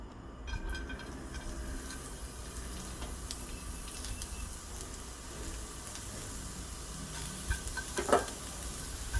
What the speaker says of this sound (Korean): 기름을 좀 둘러주시고 당근을 좀 부드럽게 볶아주시면 돼요